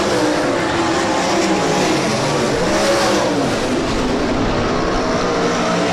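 A pack of 360 sprint cars roars around the dirt oval at Rapid Speedway, a dense, continuous, loud engine howl from several cars at once with no break.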